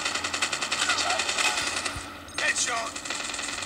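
Rapid automatic gunfire in the mobile shooter Call of Duty Mobile, firing in steady fast bursts with a brief pause partway through. A person's voice is heard talking over the shots.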